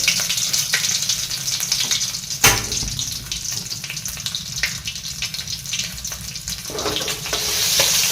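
Wild boar meat stir-fried with red curry paste in a pan, a close, crackling sizzle broken by a sharp clatter and intermittent stirring scrapes, building slightly louder toward the end, with no speech.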